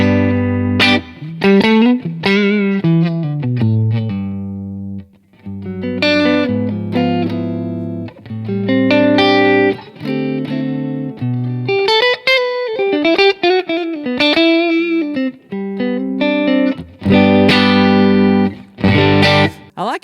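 Electric guitar played through a Line 6 Helix modeler with plate reverb, a clean, bright tone ringing out in chords and single notes with short pauses, close and loud with no talking.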